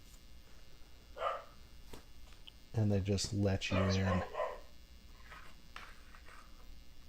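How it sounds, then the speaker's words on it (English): A short burst of several rapid dog barks from a neighbourhood full of dogs rings out loud and close in the middle. Someone speaks quietly before and after it. "And there are many dogs barking in the neighborhood."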